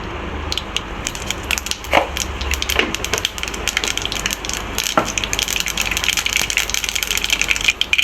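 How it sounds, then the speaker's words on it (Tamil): Mustard seeds crackle and pop in hot oil, with irregular sharp pops and sputters over a low steady hum, close and fairly loud. "இப்போது ஆயில் வந்து நல்லா ஹீட் ஆயிடுச்சு ஸோ இப்போது கடுகு போட போகிறேன்"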